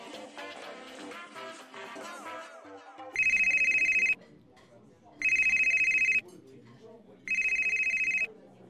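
A mobile phone rings in three loud, even bursts separated by short gaps, following a stretch of music and voices, in a restaurant setting.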